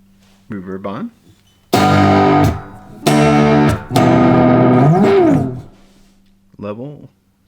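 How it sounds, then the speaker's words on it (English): Three loud electric guitar strums through a Spark amp ring out with lingering plate reverb tails, framed by short, quieter picked notes at the start and end. "Reverb on."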